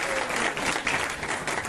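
A packed congregation at a Shrimad Bhagwat Katha breaks into loud, continuous applause, a thick wash of clapping that holds steady throughout without any speech.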